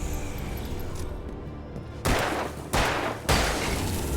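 Three heavy, booming gunshots from a firearm in Alan Wake 2, spaced about half a second to a second apart after a quieter stretch of ambient game sound, each loud and close with a lingering tail.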